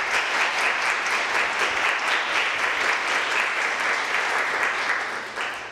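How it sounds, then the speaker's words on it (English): Concert audience applauds a jazz pianist, a dense, steady wash of clapping filling the hall at full strength before easing off near the end. "how about a nice round of applause for Dean Schneider?"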